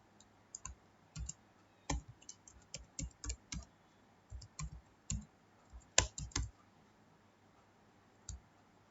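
Computer keyboard keys typing HTML code, irregular clusters of close, crisp clicks with short pauses between bursts.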